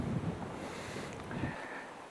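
Wind gusts and rushes outdoors beside an old sheet-metal shashlik grill with its lid removed, steady and fairly loud, with a brief louder buffet at the start and no voices.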